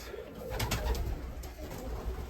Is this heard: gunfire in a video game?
no